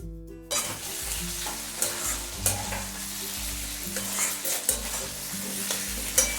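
Chicken kosa, a red chicken curry coloured with Kashmiri chilli powder and meat masala, stirred continuously in a pan, with scraping spoon strokes every second or so over a steady close sizzle and no talking.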